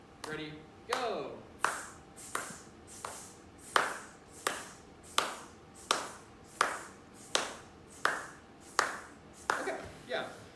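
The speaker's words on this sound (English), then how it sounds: "I'll clap" A teacher claps a steady, even rhythm for a class, about a dozen sharp, close hand claps spaced roughly a second apart, each ringing briefly in the room, with no talking over them.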